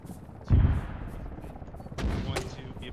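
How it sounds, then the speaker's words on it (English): Video game gunfire from an enemy emplacement along a tree line, two loud bursts of shots about a second and a half apart over a low, steady background rumble. "we're taking fire from an emplacement on the southern tree line there"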